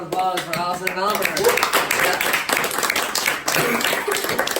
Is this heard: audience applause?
yes